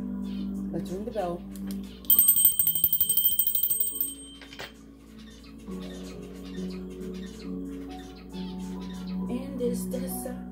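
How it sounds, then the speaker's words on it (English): A small bell rings in a quick burst of bright metallic strikes that ring out for about two seconds, with a voice speaking before and after and some murmuring around it. "Let's ring the bell."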